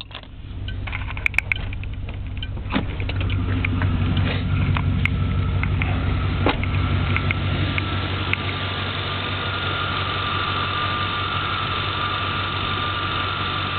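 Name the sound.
car engine idling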